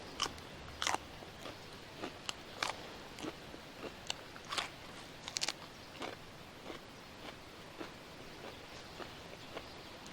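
Raw okra being bitten and chewed close up, a series of sharp crunchy bites and wet chewing clicks scattered irregularly over a quiet background, no speech.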